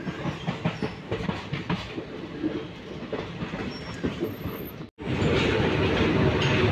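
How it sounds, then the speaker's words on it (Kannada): Train pulling into platform 2 at Harihar station, a steady rumble with clattering wheel rhythm close by, broken by a brief cut before a louder, denser roar of rolling stock. "ಹರಿಹರ ಪ್ಲ್ಯಾಟ್ಫಾರ್ಮ್ ನಂಬರ್ 2 ಬರ್ತಿದೆ ನಮ್ಮ ಟ್ರೈನು."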